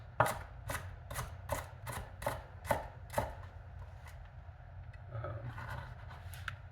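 A knife cuts bell pepper into fine brunoise on a board, seven crisp, evenly spaced chops close by, followed by softer, scattered cuts and scraping.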